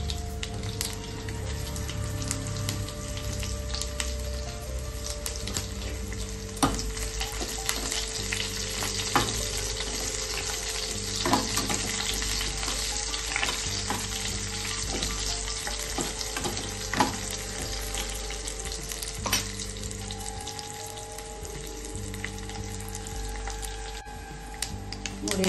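Crushed garlic and Byadgi chillies fry in hot oil for rasam, a steady crackling sizzle close by with occasional sharp pops and scrapes of stirring throughout, and no voices.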